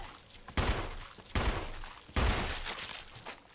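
Three sharp, loud gunshots ring out from the Resident Evil 1 HD Remake video game, spaced roughly a second apart, each with a booming low-end thump and a short decaying tail.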